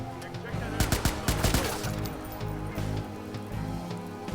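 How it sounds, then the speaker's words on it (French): Rapid bursts of automatic gunfire and scattered shots in a Watch Dogs gunfight, loud and close, clustered in the first half and thinning into sporadic pops over a steady game-score hum. "C'est un gunfight tout à fait classique."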